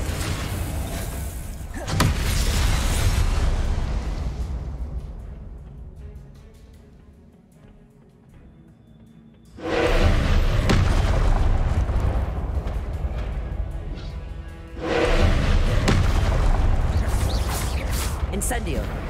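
Confringo spell blasts in the Hogwarts Legacy video game: three loud, roaring explosive bursts that each sustain for several seconds, with a voice apparently talking among them.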